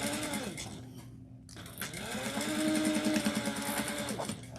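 A sewing machine stitching a quarter-inch seam on a crossbody bag, with backstitching at the start and end, whirs in rising and falling motor runs, briefly pausing before speeding up again, close by.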